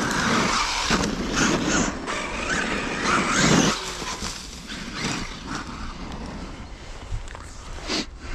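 Traxxas Maxx RC car on Sledgehammer V1 wide tyres driving past with a busy whirring rush of motor and tyre noise, loud throughout with scuffs and skidding bursts.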